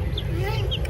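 Young chicks kept beside partridges give faint, high cheeps in a short moment, heard over low background noise and a voice.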